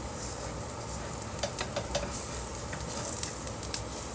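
Onions sautéing in oil for chicken curry give off a soft, steady sizzle, with a few light scrapes and clicks of stirring near the middle, and no one speaks.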